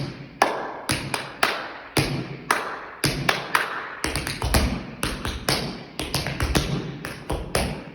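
Crisp tap shoe strikes in quick rhythmic bursts, heel and toe clicks with occasional heavier thuds, close and clear with no talking.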